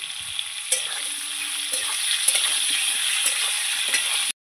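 Elephant foot yam and potato pieces fry together in a pan with a dense, steady sizzle and a few soft stirring knocks, close and continuous until it cuts off abruptly near the end.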